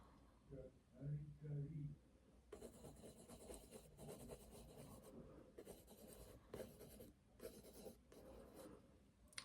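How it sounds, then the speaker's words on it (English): A graphite pencil point works detail onto sanded paper, giving close, gritty rasping strokes in repeated bursts, after a voice talks briefly at the start. "I'm putting in a little bit of detail with the point of the pencil"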